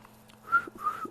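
A person gives two short whistled notes, soft and fairly close, in a quiet room.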